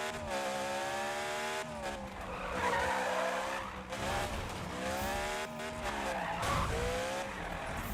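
Car tyres skidding and squealing in the Need for Speed 2015 racing game, a continuous screech over a steady revving engine drone that swells and dips throughout, with no voices.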